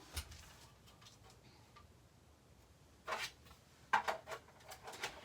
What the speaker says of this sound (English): run this through my die cut machine